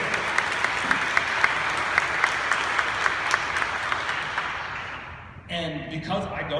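A church congregation applauds during a Sunday sermon, with dense, steady clapping from many hands for about five seconds. The clapping then fades and a voice starts talking.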